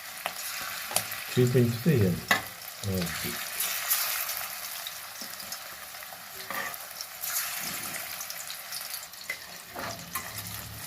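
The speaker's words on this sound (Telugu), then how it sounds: "ఇప్పుడు వీటిని ఆయిల్లో వేసి ఫ్రై చేస్తాను." Prawns fry in oil in a pan for Andhra-style prawn fry, a continuous moderate sizzle with a few clattering stirs and brief bursts of talk over it.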